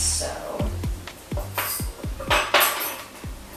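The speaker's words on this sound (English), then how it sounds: "Tape the spoons together." Metal spoons clink together as they are taped, a run of sharp, ringing strikes spaced roughly evenly, close and fairly loud, with tape rustle between the hits.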